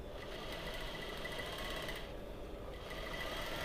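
A sewing machine runs continuously, stitching along a quarter line in fabric: a fast, even whirring patter close up, steady throughout with no voices.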